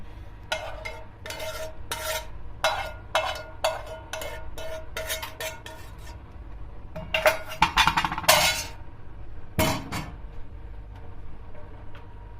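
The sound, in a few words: boiling sauce poured over fellah köfte, then stirred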